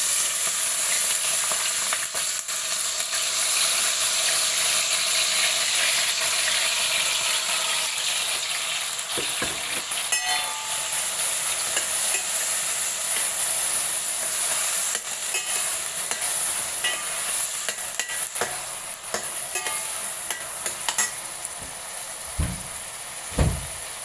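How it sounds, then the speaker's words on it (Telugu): Onions, tomatoes, green chillies and curry leaves fry in a pan with a steady, close sizzle and stirring throughout, occasional utensil scrapes and a couple of louder knocks near the end. "ఫస్ట్ ఆనియన్స్, టమాటాలు, పచ్చిమిరపకాయలు, కరివేపాకు అన్నీ వేసేసుకున్నాం."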